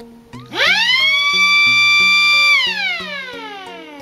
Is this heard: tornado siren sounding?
yes